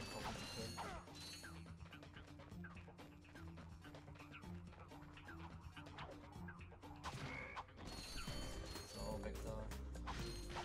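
Boxes being smashed in Ratchet and Clank, a quick run of sharp cracking breaks and clattering mechanical clicks over game music, with someone talking quietly in between.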